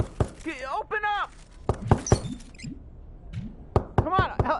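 Sharp wooden knocks on a door in the game Trover Saves the Universe, several hard raps in uneven clusters, close and loud, with a voice talking between the knocks.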